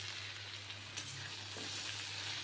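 Cabbage frying with light spices in a pan for a home-cooked curry, a steady close sizzle running without pause under a low hum, with a few soft stirring knocks.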